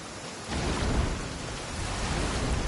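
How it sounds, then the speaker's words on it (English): Steady rain pours in a courtyard in Genshin Impact, a dense continuous hiss with a low rumble of thunder swelling underneath, no voices. "I love listening to the rain from the courtyard."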